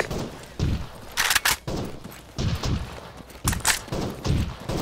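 Video game gunfire aimed at an armed pickup technical, irregular close bursts and sharp shots with thuds between them, loud and choppy over a few seconds.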